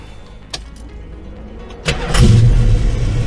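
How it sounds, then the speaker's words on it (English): A 1972 Dodge Challenger's 360 Magnum V8 engine cranks briefly and catches, settling into a loud, deep idle with a low rumble close by. "I'll start it up again. You can hear it then."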